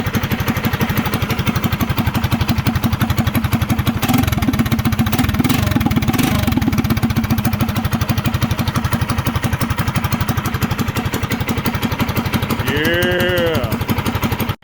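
An MM212PRO mini bike engine fitted with an FBC Power Horn exhaust trumpet runs steadily and loudly throughout, a dense rapid firing pulse with brief revs midway and a short whine near the end.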